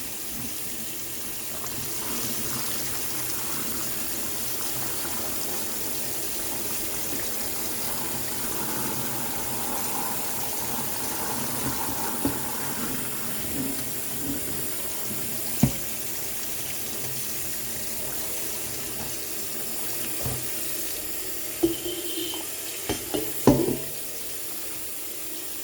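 A black-dyed polyester blend jacket rinsed under a running tap, with a steady rush of water filling a sink throughout and a few faint knocks and handling sounds near the end.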